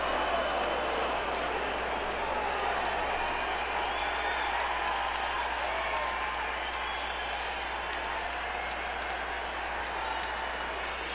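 Continuous applause from a large crowd at a professional wrestling event, dense and steady throughout, with a voice faintly audible beneath it.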